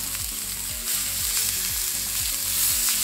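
Chicken steaks sizzle steadily in a hot pan, a continuous bright crackle that stays loud and close throughout, with a low rhythmic thumping underneath.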